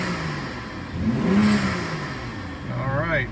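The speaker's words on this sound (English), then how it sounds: "See if it revs out okay." A BMW 335i F30 engine revs up after an ECU flash, swells and falls back, then climbs again, close by and fairly loud.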